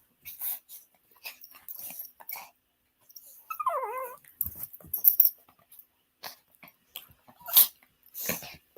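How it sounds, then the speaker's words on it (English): Dogs growl and whimper in short bursts close by, with a rising whine in the middle and scattered breathing and rustling between quiet gaps. "Oh, child, I'm so tired of these dogs."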